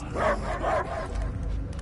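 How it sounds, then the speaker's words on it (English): A dog barks twice in quick succession in the Guardians of the Galaxy video game on PS5, moderately loud, followed by a low hum of background ambience. "I hear only barking."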